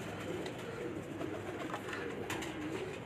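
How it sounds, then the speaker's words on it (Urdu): Aliwala pigeons coo in a loft in Sialkot, Pakistan, a soft, continuous chorus of low throaty calls from many birds over a steady background hum. "ان کے کبوتر آپ دیکھ رہے ہوں گے ماشاء اللہ بہت ہی اچھے کبوتر ہے"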